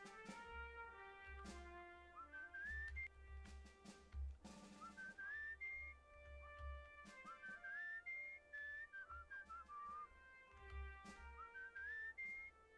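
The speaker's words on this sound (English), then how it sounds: "I love the whistling." Melodic whistling in the video game Where the Water Tastes like Wine, a clear tune of rising and falling notes over a soft musical backing, steady and close throughout.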